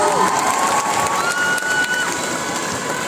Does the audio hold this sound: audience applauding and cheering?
yes